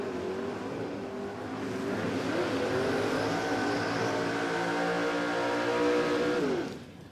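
Super Sedan drag racing cars at Willowbank Raceway, a loud sustained engine roar with rising revs holding steady before cutting off near the end, heard from a distance across the track.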